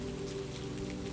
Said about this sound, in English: The hush of the rain never truly left.